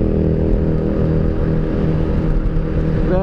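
A motorcycle with a quick shifter runs close by, a steady buzzing engine note with slight rises as the throttle is blipped, loud and continuous throughout.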